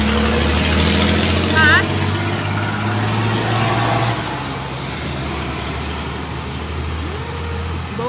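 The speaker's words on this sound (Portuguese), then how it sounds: "Vocês já viram que tem muito fluxo de caminhão pra lá e pra cá." Heavy trucks and cars pass along a busy Brazilian road near Marau, a steady rumbling traffic wash with a low engine drone, while someone talks over it.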